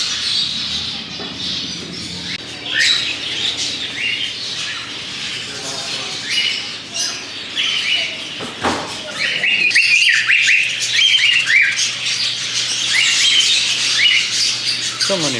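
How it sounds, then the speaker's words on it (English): Many birds squawk and chirp at a bird farm, a dense chorus of overlapping calls close by with occasional louder squawks, steady background hum, no talking. "So many birds."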